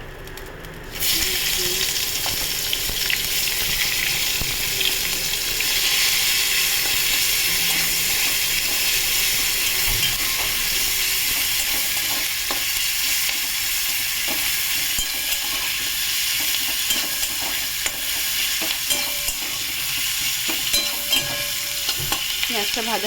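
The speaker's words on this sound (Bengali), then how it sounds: "এবার এই তেলেই আমি পেঁয়াজ দিয়ে দেবো।" Onions sizzle steadily in the oil left over from frying fish, a loud continuous frying hiss with light stirring and scraping throughout, no voices.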